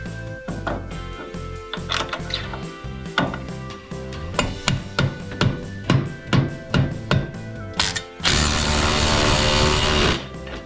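Bolts are tightened on the front suspension of a third-generation Toyota 4Runner, with a series of sharp metallic clicks and knocks from a ratchet and tools. A loud burst of hissing noise comes near the end.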